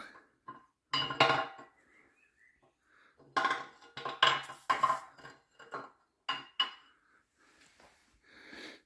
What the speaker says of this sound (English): So all we can do now is slowly move the shaft out.